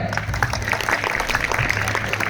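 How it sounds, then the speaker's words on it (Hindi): Students clap at a Class XII farewell at JNV Fatehabad, a steady, dense crowd applause at moderate volume with a low hum running underneath. "एक बार इनके लिए तालियां हो जाए।"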